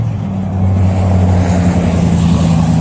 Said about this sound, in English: Fairly quiet, except for when a truck goes down the road.